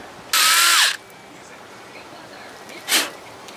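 A drill bores into a screw set in an aluminum part from a 1987 Johnson 40 hp outboard motor, giving one loud, high whirring burst of about half a second, then a shorter, fainter whine a couple of seconds later, close by.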